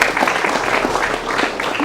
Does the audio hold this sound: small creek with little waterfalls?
no